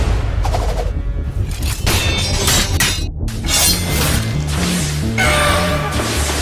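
A fire jutsu attack in a Bangla-dubbed Naruto anime erupts as a loud, crackling, shattering burst of repeated impacts and whooshes layered over a dramatic tonal music score.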